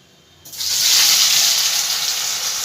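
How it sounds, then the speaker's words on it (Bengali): Paneer pieces dropped into hot oil in a pan burst into a loud, steady sizzle that starts abruptly and holds evenly to the end, with no talk. "এবার হালকা হাতে পনিরগুলো আমি একটু ভেজে নেবো"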